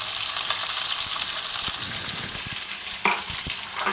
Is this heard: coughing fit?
no